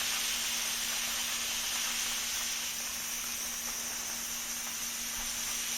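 A handheld steamer hisses continuously while being moved slowly along mattress seams to treat bed bugs, a steady close-up jet of steam with a faint underlying mechanical hum.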